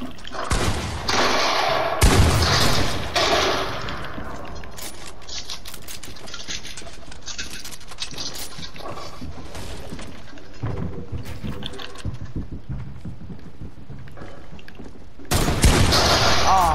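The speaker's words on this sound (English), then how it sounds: "I keep missing my shotgun shots." Shotgun blasts fired in a video game, several loud bursts of gunfire clustered at the start and again near the end, with sporadic game action in between and no clear talking.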